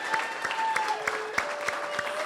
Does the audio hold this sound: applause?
yes